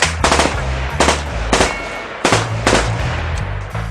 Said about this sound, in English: The guards remember that they have guns and open fire on the mannequins.